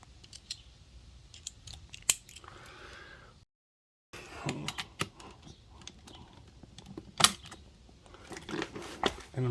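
A ratchet drive fitted with a bit adapter ticks in quick, light clicks near a Bugeye vehicle transmission during a speed sensor replacement. The clicks are close and faint in short bursts, with a brief silent gap partway through.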